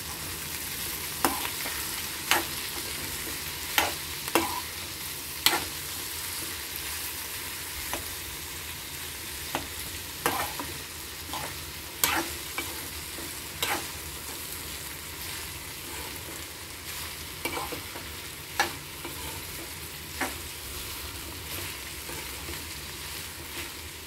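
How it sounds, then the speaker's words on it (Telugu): Ridge gourd pieces stirred in a pan, with a spoon scraping and clicking against the metal in irregular bursts over a steady low sizzle, no voices. "కలుపుదాము ముక్కల్ని కొంచెము."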